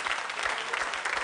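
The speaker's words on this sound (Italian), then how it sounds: "Applauso." Studio audience clapping on an Italian cooking show, a brief steady patter of many hands at moderate volume, without talk.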